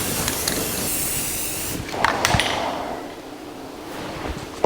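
Continuous hiss of a spray gun laying primer on a 1982 Jeep CJ7 frame, close and steady, briefly interrupted by a few metallic knocks before the spray resumes more softly.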